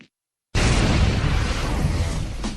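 An XM360 cannon fires in super slow motion: after half a second of silence a huge, loud blast hits at once and then rolls on as a long, dense, stretched-out boom that fades only slightly to the end.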